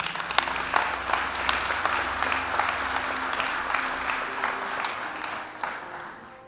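Strong applause fills a conference hall after a speaker introduces a group of pioneers of angioplasty, steady clapping from many hands with a few sharper claps standing out, fading slightly toward the end.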